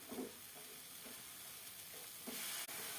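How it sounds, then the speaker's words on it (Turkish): Apples for apple cookies sauté in a pan with a soft, steady sizzle and occasional stirring scrapes, quiet and close, with no talking. "Şimdi bu şekilde kavuracağız. Pişireceğiz elmaları."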